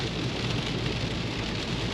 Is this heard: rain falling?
yes